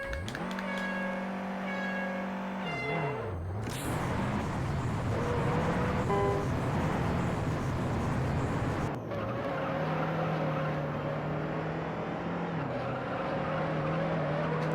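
Front-wheel drive car racing in the Juiced video game, its engine whining up through the revs, then dropping sharply at each gear change. The motor drones loud and continuous from start to finish.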